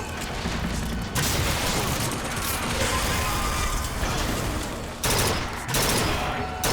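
Burst-fire rifle in the video game Bioshock Infinite lets off loud, dense gunfire that fills the clip almost without pause, broken by brief gaps near one and five seconds, with mechanical clatter mixed in.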